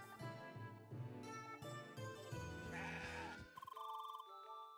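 Goat bleating in the video game CrossCode, a few wavering, stylized bleats over game music with chime-like tones at the end, fairly loud and clear.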